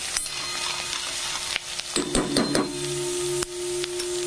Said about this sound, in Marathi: कांदा फ्राय करून घ्यायचा आहे।